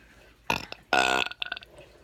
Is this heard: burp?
yes